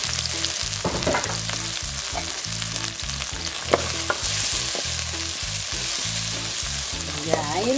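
Onions caramelizing in a pan for a fish stew, a loud, steady sizzle and crackle that runs the whole time, with a repeating low pulsing from the heat or stirring and no voices.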